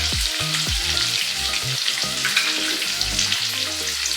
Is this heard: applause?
no